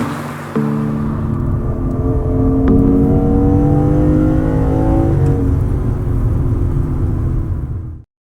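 A Lexus IS500 with a naturally aspirated V8 drives steadily, its loud, deep engine note climbing through the rev range with rising harmonics before cutting off abruptly.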